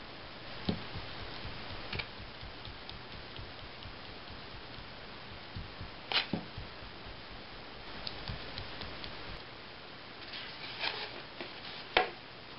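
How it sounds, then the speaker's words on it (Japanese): A cosmetic sponge tapping paint onto a large stencil laid over black drawing paper, making faint, close, irregular soft taps and dabs scattered through the stretch, with a few sharper hits standing out. "これに直接つけてファンデーションをつける要領でトントンと伸ばしていきましょう。"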